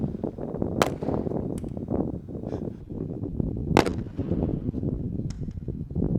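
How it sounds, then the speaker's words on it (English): An airsoft pyrotechnic fragmentation grenade packed with small clay balls, simulating an M67 frag, bursts with several sharp, loud cracks spread across a few seconds over steady rumbling background noise, with no talking. "So let's blow it up and see what happens."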